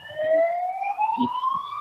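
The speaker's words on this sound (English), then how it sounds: "kind of ironic that an ambulance just drove by." A passing ambulance siren wails in a steady rising tone from a distance, faint but clear, with a few soft background sounds and no speech over it.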